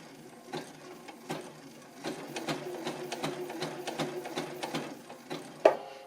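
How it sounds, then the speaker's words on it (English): A sewing machine stitches a button onto fabric, running in short bursts of quick needle clatter and mechanical ticking with brief pauses between, close and fairly quiet, ending in a sharper clack. "So I can just simply press my pedal now and sew."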